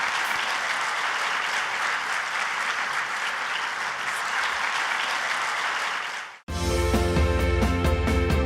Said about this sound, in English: Let's stand up and give her a round of applause.